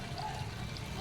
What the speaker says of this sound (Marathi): पाणी ॲड करायचं आहे आपल्याला।